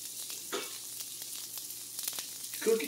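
Onion and celery sizzling in a pan for a shrimp and bean chili, a quiet steady crackling fry with a few louder pops and stirring sounds.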